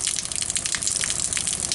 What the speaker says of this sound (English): that water runs out of there year round